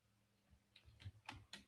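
Computer keyboard typing, a handful of distinct key clicks that pick up in the second half, quiet and close with no talk.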